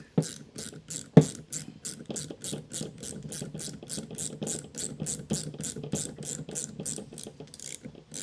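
A ratchet wrench tightens a bolt on the steering of a 1981 Corvette with a leaky recirculating ball steering box, clicking in a steady rapid series of close, crisp pawl ticks with a louder clank near the start.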